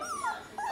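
A small Teddybear Goldendoodle puppy gives a thin, high, wavering whimper up close, then a second short whine, with quiet room noise underneath.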